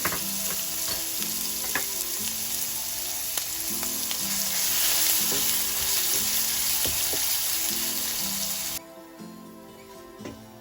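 Ginger and garlic frying in a pan for an Indian kadhai paneer, with a loud steady sizzle and regular stirring scrapes throughout before the frying drops off sharply near the end.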